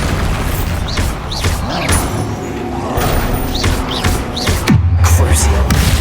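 A Bombarda spell explosion in Hogwarts Legacy gameplay comes as a heavy boom and thud among clattering mechanical combat effects, followed by a low rumble near the end.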